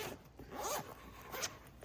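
A zipper is pulled along a genuine leather seat cover for a Lexus ES350, a quiet close-up rasping slide in a couple of short strokes, with no talking.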